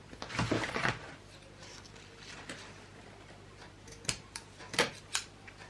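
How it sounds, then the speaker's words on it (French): Scissors snipping pieces of ribbon for a folio album craft, a few close, crisp metallic snips spread out with quiet handling between them. "Je coupe mes morceaux de ruban."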